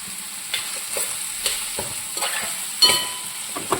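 Crushed ginger, garlic and green chillies sizzle in a pan with wilted ingredients, a steady close frying hiss broken by repeated scraping stirs at an uneven rhythm, with no talk.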